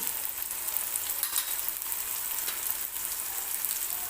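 Tomato with turmeric and dry spices fries and is stirred in a pan for a dry chickpea dish, giving a continuous close sizzle with soft scraping strokes throughout and no talking.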